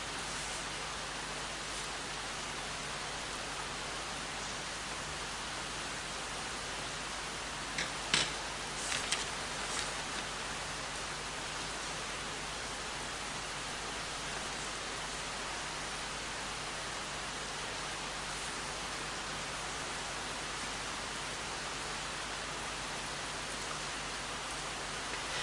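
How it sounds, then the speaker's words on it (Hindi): Steady rain falls outside as a continuous, even hiss that lasts throughout, with a brief, slightly louder patter near the middle and no voices. "बाहर बारिश हो रही तो मे भी शायद आपको थोड़ा डिस्टर्बेंस आ रहा होगा"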